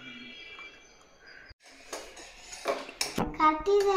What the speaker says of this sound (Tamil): கட்டிதெல்லாம் கிண்டிட்டே இருக்கணும்.